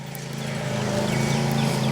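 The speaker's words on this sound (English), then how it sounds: "They decided to cut the grass now while I'm out here" A lawn mower cuts grass nearby in a spring garden, its engine a steady, loud droning rumble that fills the whole moment without letting up.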